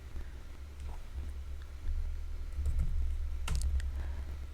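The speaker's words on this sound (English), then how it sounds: "here I'm typing the code for a button" Fingers typing code on a computer keyboard, producing a steady run of quick close clicks and key taps that thicken toward the end, heard alone with no talking.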